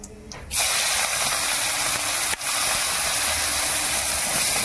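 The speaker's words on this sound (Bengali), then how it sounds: "একটু জিরে, গোটা জিরে ফোড়ন দিচ্ছি তেলে" Whole cumin seeds hit hot oil that already holds a pinch of sugar, for a Bengali fish jhal, and erupt into a sudden loud, steady sizzling hiss that carries on without a break.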